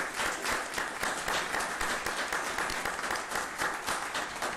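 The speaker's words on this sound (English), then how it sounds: "just join me in applauding them" Steady applause from an audience at a public school district board meeting, a dense wash of many hands clapping at even loudness throughout with no voices standing out.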